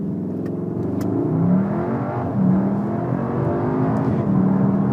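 A Cupra Formentor accelerates hard from a standing start, its engine droning loudly and steadily with rising revs and a couple of gear-change dips, heard from inside the car with no talk.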